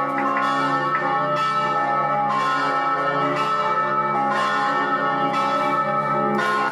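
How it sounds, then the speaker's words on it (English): Large church bells ring continuously and loudly at close range inside the belfry, with rich overlapping tones and strikes repeating about every second or so, no voices. "I stand right next to giant ringing bells"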